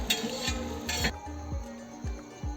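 Onion frying in oil in a pot over a wood fire, a continuous soft sizzle punctuated by regular clinks and scrapes of a spoon stirring, close and alone.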